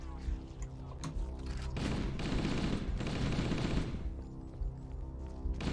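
Rapid needler fire from Halo: Combat Evolved crackles in a sustained burst through the middle, layered over a steady game background.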